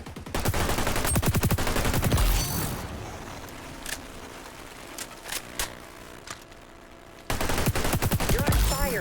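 Rapid bursts of automatic gunfire in the shooter game XDefiant, loud and dense at the start and end with sparser single shots and quieter game effects in between.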